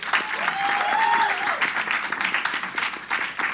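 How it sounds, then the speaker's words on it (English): An audience applauds at a ceremony for Cuco, sustained dense clapping from a sizable crowd that holds steady throughout, loud and close, with a few indistinct voices mixed in. "Let's give another round of applause."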